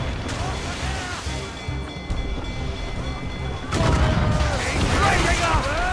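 Ship cannon fire in Assassin's Creed Rogue: a dense stretch of booming volleys and crashing impacts during a naval battle, growing louder and heavier partway through, with shouting voices mixed in.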